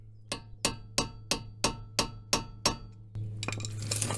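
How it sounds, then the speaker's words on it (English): A hammer strikes a screwdriver eight times in an even rhythm during a front brake pad and rotor job on a Kia Forte, each sharp metallic clink ringing close and clear, followed by a brief rustling shuffle. "As I'm hitting the hammer, I'm turning counterclockwise."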